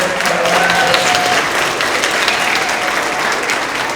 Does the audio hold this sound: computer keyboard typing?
no